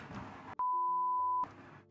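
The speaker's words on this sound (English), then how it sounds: "I need the beep button for this" A steady, pure-tone censor beep cuts in abruptly, holding loud and flat for under a second between stretches of talk, covering a spoken word.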